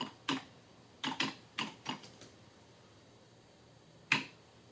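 Keys on a PS2 computer keyboard tapped close by, used with an Atari 8-bit setup: a single click, a quick run of five or six irregular clicks, a pause, then one last sharp click, with no talking.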